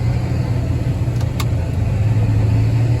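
A farm tractor hauling a full load of corn runs at full throttle on the road, a steady, loud low engine drone with constant rumble throughout and no talk.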